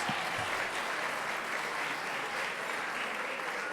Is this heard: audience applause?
yes